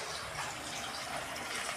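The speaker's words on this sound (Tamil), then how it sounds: "இப்போ வந்து மழை தண்ணி ஊற்றிக்கலாம்." Rainwater pours into a pot of curry gravy, a steady, soft splashing stream of liquid running evenly throughout at low volume with no voices.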